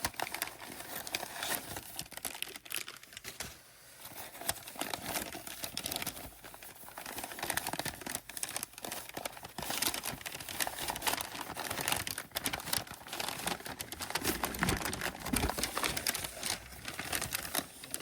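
Packaging being unwrapped from Furls Streamline metal crochet hooks: continuous crinkling and rustling of wrapping material, close and busy, with no talk.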